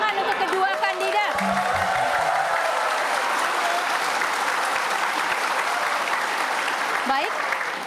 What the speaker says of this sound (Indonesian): Kita boleh tepuk tangan untuk kedua kandidat.